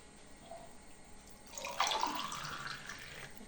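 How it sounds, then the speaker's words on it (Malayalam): Ash gourd juice being poured into a glass, a short trickling, splashing pour that starts after a quiet moment and carries on softly, close by, without any talk. "ഇപ്പം നമുക്കിത് ഗ്ലാസ്സിലേക്ക് ഒഴിക്കാം."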